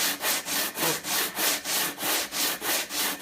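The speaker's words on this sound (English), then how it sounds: "you can really sand it off until you get rid of all the hard spots." Rhythmic back-and-forth sanding strokes across a flap surface, about eight even hissing passes, loud and close with short gaps between each rub.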